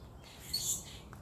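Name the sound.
birds chirping in a backyard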